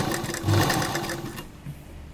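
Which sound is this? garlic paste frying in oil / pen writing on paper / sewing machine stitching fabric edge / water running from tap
sewing machine stitching fabric edge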